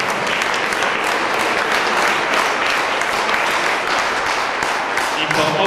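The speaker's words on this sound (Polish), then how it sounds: "Serdecznie brawa za pracę jury dzisiaj" Sustained applause from an audience at a secondary school arts review in the Nysa Euroregion, honouring the jury; dense, even clapping fills the whole stretch at steady loudness with faint voices mixed in.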